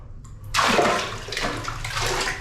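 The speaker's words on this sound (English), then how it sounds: "Now, to flush the toilet," Water is poured by hand into a Bali squat toilet to flush it, a sudden heavy splash that rushes and gurgles down the bowl for about two seconds.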